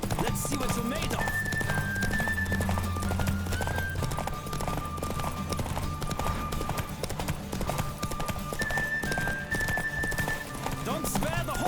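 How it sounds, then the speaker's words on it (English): Hooves clatter in a continuous fast rhythm with an occasional horse whinny, under ongoing voices, as a horse gallops in the video game The Witcher 3: Wild Hunt. "Don't spare the horse!"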